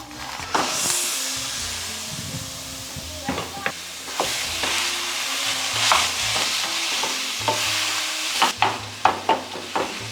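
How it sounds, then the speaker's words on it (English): Ground beef browns in a frying pan with a constant sizzle and hiss, broken by clicks and scrapes of a utensil stirring the meat, close and fairly loud with no talking. "We are going to completely brown up this ground beef."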